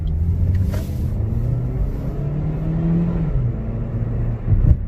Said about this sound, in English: now I'm just going to do a little bit of a fast takeoff just for you guys to see how peppy it is